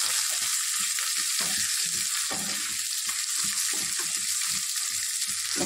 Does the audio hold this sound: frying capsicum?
yes